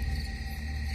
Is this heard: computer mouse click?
no